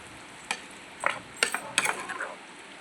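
Prawn curry stirred in a frying pan, a few quiet scraping strokes of a spoon against the pan over a faint sizzle, close and with no talk.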